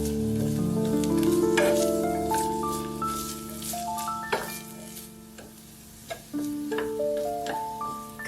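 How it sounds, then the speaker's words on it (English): Julienned carrots sizzle and hiss as they are stir-fried in oil in a pot, with occasional light scraping taps against the pot and a gentle melodic tune playing beneath. "Next, use the same pot to stir-fry the julienned carrots."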